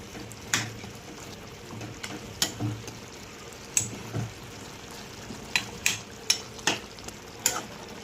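Green chili, ginger and garlic paste frying in a pan: a low steady sizzle broken by irregular spatula clicks and scrapes against the pan, close and moderately loud with no talking.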